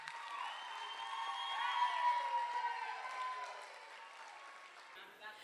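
Audience applauding and cheering at the Mr. Healdsburg pageant, a sustained wash of crowd noise and whoops that swells in the middle and then fades.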